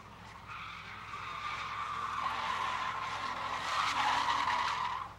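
A six-cylinder street stock race car's tires squeal and skid in a sustained screech that builds and peaks before cutting off, heard at a distance with no talk over it.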